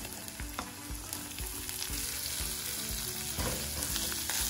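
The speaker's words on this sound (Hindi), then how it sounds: "इसको भी हम 2-3 मिनट अच्छे से भून लेंगे" Sliced spring onions frying in a pan for potato sabzi, a dense continuous sizzle with intermittent stirring clatters, close and steady throughout, no talking.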